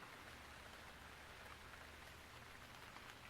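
Steady rain sound effect played back as a theatre sound cue, a continuous even hiss of falling drops with no pauses or voices, quiet throughout.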